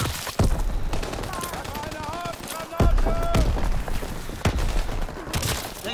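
Gunfire in Call of Duty: WWII, with a few heavy close shots and scattered bursts under game noise as a voice speaks briefly.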